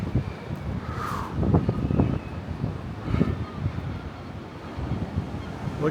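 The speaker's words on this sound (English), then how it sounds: "It is so windy out here." Strong gusting wind buffets the microphone outdoors in the Algarve, Portugal, a steady roaring rumble that swells and eases over several seconds with no talk.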